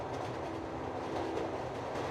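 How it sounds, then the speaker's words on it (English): Train running on its tracks, a steady low rumble with faint rhythmic rail clatter, continuous and moderately quiet, with no voices. "The sound of the tracks fill the air as the city moves past the windows."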